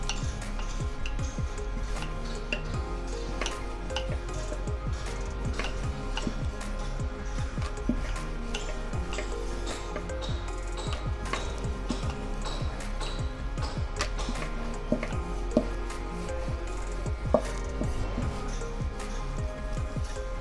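Cabbage paratha dough dusted with dry wheat flour is rolled out with a rolling pin, producing a steady run of soft knocks and taps throughout, close and fairly even in level.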